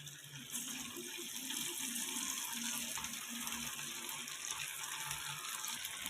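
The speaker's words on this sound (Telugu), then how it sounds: "ఆయిల్లో ఎన్ని ముక్కలు సరిపోతే అంత వేసుకోవాలి. వేసుకొని డీప్ ఫ్రై చేసుకోవాలి." Pieces of chicken pakoda deep fry in hot oil, giving a dense, steady sizzling hiss that starts abruptly and continues close and even.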